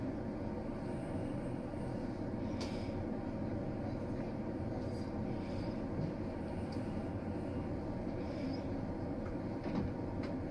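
A new Thai sleeper train with first-class cars pulls out of a station, heard from inside as a steady low rumble and rolling drone with a few faint clanks and knocks.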